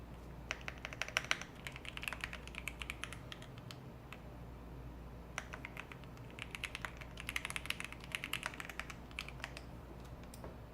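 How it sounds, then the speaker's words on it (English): Continuous typing on a computer keyboard, with bursts of quick, fairly close key clicks that stop briefly in the middle before picking up again, over a steady low hum and no speech. "I'm typing this stuff myself and I don't even know what I'm typing."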